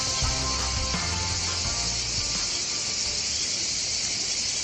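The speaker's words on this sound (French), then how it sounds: "écoutez les petites cigales" Cicadas buzz in a loud, steady, high drone that fills the whole stretch, with a low rumble of activity underneath early on.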